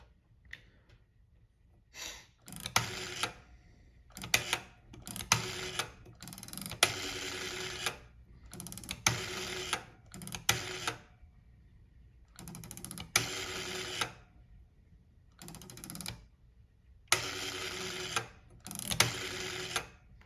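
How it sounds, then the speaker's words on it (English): A Kellogg 925 rotary telephone being dialed, with bursts of whirring, clicking dial returns separated by short pauses, close and fairly loud with no talk. "And then I'm gonna dial a few numbers."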